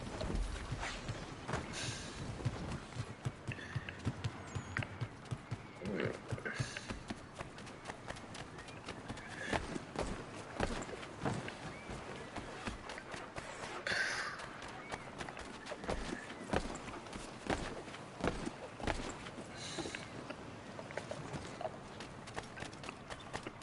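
Horse hooves in the video game Assassin's Creed III Remastered clop steadily and rapidly over a busy background, continuous and fairly loud throughout.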